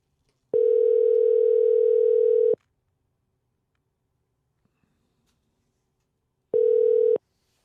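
Telephone ringback tone heard while a call is being placed, two steady electronic beeps, a long one and then a short one after a gap of silence.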